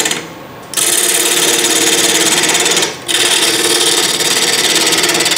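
A three-eighths inch bowl gouge cuts a hollow vase spinning on a wood lathe, a loud close continuous shearing hiss with a steady fast buzz, broken by two brief pauses as the tool lifts off the wood.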